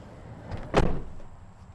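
The door of a lifted AWD adventure van swings shut with a single solid thump midway through, preceded by a faint click and followed by a low rumble in a fairly quiet outdoor setting.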